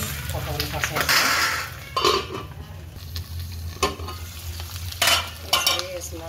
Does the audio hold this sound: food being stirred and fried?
yes